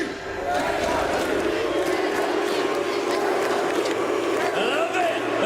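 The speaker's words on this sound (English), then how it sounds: "You want to start an NRG chant right now?" A large esports crowd in Paris chants in unison for NRG during a Valorant match, a loud roaring rhythmic chorus filling the arena nonstop.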